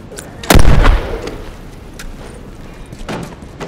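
A loud, close gunshot bursts out in a multiplayer match of The Last of Us Remastered on the Wharf map, followed by a few fainter shots and a low rumble.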